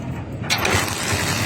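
A 175 cc motorcycle engine, fitted with a new CDI and spark plug, catches and runs with a loud, rough, close mechanical clatter in a brief burst.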